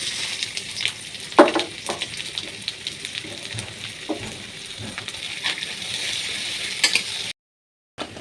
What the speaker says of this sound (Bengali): এবার এই কড়ার ভিতরে দিয়ে দিব সরিষার তেল তেলটা ভালো করে গরম হয়ে গেছে দিয়ে দেব এক বাটি কুচি করা পেঁয়াজ